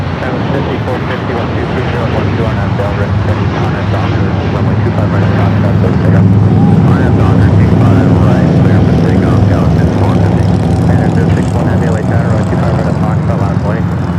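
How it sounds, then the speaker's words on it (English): Porter Embraer E2 jet rolling down runway 25 right at LAX, a loud steady engine roar that swells midway, heard with people talking over it. "Porter now rolling down that 25 right."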